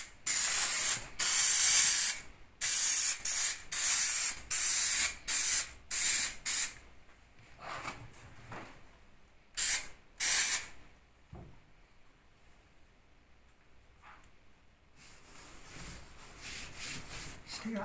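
Spray glue hisses from an aerosol can onto hessian on an MG Midget car seat being upholstered, a series of short close bursts followed by quieter rubbing and a final longer spray.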